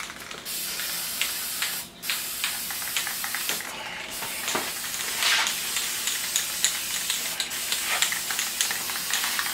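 Clear coat is sprayed onto a solid guitar body with a spray gun, giving a loud, continuous hiss broken by short pauses between passes, close and with no talking.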